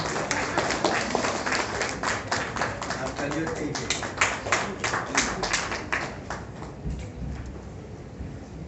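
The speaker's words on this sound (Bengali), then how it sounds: "একটা জোরে হাততালি" An audience at the Banga Shreshtha Samman 2024 award ceremony claps in a dense, steady burst that fades away after several seconds, with voices present underneath.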